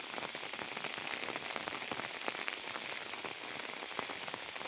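Heavy rain pours down on a village in a dense, continuous hiss, with sharp drops spattering hard surfaces throughout. No voices break the steady downpour.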